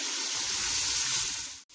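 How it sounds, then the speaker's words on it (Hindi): Chana dal split chickpeas tumble into hot spices, setting off a sudden close sizzle that swells, holds steadily, then cuts off briefly near the end. "दाल ऐड करके अब हम इसको मिक्स करेंगे और 5 मिनट तक हम इसको मीडियम फ्लेम पे भून लेंगे"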